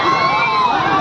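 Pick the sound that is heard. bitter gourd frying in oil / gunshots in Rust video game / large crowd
large crowd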